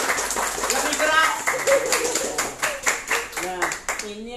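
A school audience claps in a lively burst while a voice talks over it, the clapping mixed with chatter and calls before fading into speech at the end.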